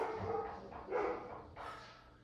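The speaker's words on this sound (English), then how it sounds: "Excuse my dogs." Dogs barking indoors during a home workout, three muffled barks spaced about half a second apart, faint and somewhat distant.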